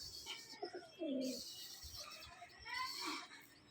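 Pigeons at a bird sale coo in soft rolling calls close by, while a voice talks over and among the birds throughout.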